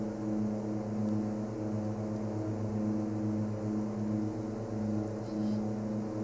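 A Twin Otter cargo plane climbs out after takeoff in Alaska, its turboprop engines giving a loud, steady drone with a strong tonal hum that holds constant throughout.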